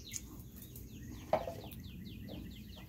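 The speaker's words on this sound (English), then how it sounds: "now the birds, see, you notice how then they quit using the mowers, the birds start up." Outdoor birds singing once lawn mowers fall silent: quick repeated chirps and descending whistled notes at moderate distance, with one sharp click partway through and no voices.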